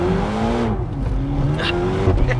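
A Ferrari GTC4Lusso T with a twin-turbo V8 accelerating hard, a loud, close engine note rising and sweeping in pitch as it pulls through the revs, with a brief squeal-like burst near the end.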